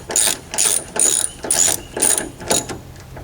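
A hand ratchet clicks in six quick, evenly spaced bursts while loosening a bolt on the top of a broken Toyota Tundra tailgate, close and loud with no speech.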